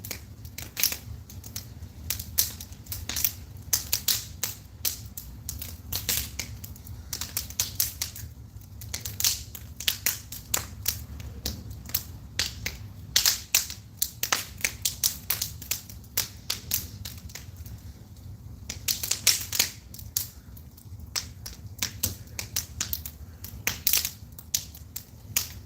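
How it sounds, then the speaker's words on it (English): Wood fire of burning fencing slats crackling in a small mini fire pit, a dense, steady stream of sharp pops and snaps close by over a low rumbling bed, with no talking. "I was kind of missing having a good wood fire"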